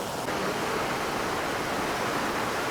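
Flooded Kasadi river rushing after sudden unseasonal downpours, a dense, continuous roar of water without pause.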